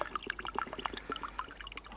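Water poured sparingly at a rainy campsite to make coffee: a quiet, short trickle with small splashes and drips, close by.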